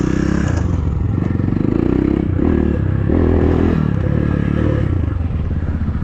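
A KAYO TSD 110 enduro motorcycle rides off-road, its engine droning loud and steady close by, with rattling and scraping from the bike over rough ground throughout.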